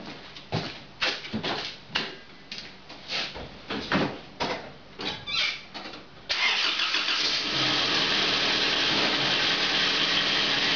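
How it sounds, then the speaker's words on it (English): An Isuzu pickup engine cranks in a series of loud rhythmic churns for about six seconds, then catches and settles into a steady, close idle. "Give it a good check over, start her up"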